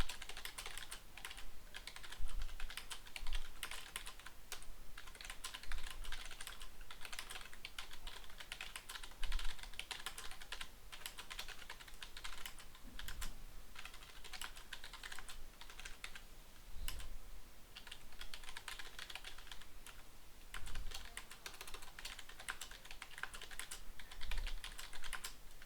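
A review is typed on a computer keyboard with quick, continuous key clicks, some louder taps and occasional heavier strikes scattered throughout, close and otherwise quiet.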